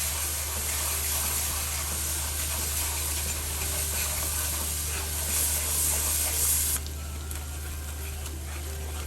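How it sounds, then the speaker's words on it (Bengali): Ground chilli and turmeric sizzle in hot oil in a pan as a spice masala is stir-fried for a prawn curry, a steady close hiss that drops a little toward the end. "এটা দিয়ে আমি এখন ভালো মতো করে মশলাতে একটু কষিয়ে নিচ্ছি"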